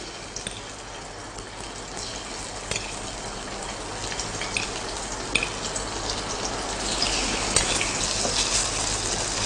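Beef sizzles and fries hard in a hot wok, a steady dense crackle that holds without break and grows slightly busier toward the end, with no voices over it.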